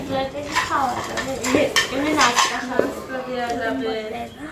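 Full-size and half-size plates clink and clatter as they are handled and set against each other, with someone talking over the sharp ceramic knocks.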